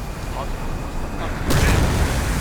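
Bombs strike destroyers in a naval combat video game, a steady rumbling battle roar topped by a sudden heavy explosive boom partway through that swells into a broad, loud blast.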